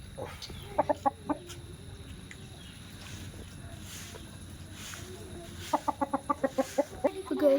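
Three young chickens cluck in short bursts of rapid repeated notes, near and moderately loud, with a quieter stretch between the bursts over steady outdoor background noise in a rainy Palakkad village.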